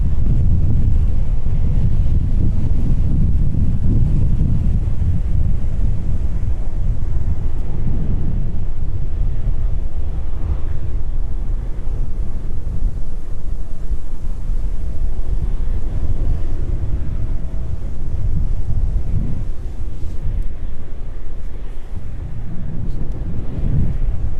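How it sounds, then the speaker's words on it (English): Strong wind roars and buffets the microphone continuously at East Midlands Airport, a heavy low rumble with gusts that swell and ease for the whole stretch. "it really is extremely windy at the minute. You can probably hear on the microphones."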